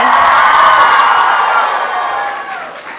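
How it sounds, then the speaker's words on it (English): TwitchCon panel audience keeps clapping and cheering as a guest walks up, a loud, close crowd roar with whoops and shouts that eases slightly toward the end, voices mixed into the din. "we got to keep on clapping"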